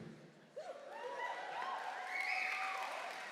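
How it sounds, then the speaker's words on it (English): An awards-show audience at the SCMA Awards 2023 applauds steadily, with scattered whoops and cheers rising over the clapping as it builds and holds through to the end. "You're clapping great."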